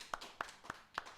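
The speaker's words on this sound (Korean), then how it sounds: "하나님께 영광의 박수 돌려드리겠습니다." Applause during a Sunday worship service at a Korean Full Gospel church, heard here as four evenly spaced, faint hand claps in quick rhythm.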